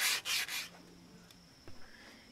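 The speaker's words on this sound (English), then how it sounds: "smooth off the edges with sandpaper" Sandpaper rubbing along the edges of a wooden cruiser skateboard deck, three quick close scraping strokes at the start, then quiet with a couple of faint brushes.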